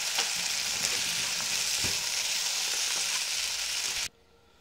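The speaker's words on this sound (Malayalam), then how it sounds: "ഇപ്പോൾ നമുക്ക് നമ്മൾ ഫ്രൈ ചെയ്ത് വെച്ചിട്ടുള്ള ഇഡ്ഡലി കൂടെ ചേർത്ത് കൊടുക്കാം നന്നായിട്ട് മിക്സ് ചെയ്യാം" Fried idli being stirred into chilli sauce in a hot pan, a loud continuous sizzle with occasional soft scraping of a spatula, cutting off abruptly at the end.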